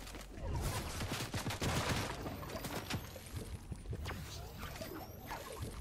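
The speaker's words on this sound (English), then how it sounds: "Oh, someone's shooting at me." Dense, continuous crackle of gunfire in a Fortnite match during a duo cash cup tournament, a steady barrage of rapid shots with a player's voice speaking over it.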